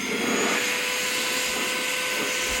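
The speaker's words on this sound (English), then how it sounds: "And I will just take a little battery-powered blower." A small battery-powered blower runs steadily while drying a Hot Rod Deluxe amp, giving a constant, loud whooshing whir with no letup and no speech.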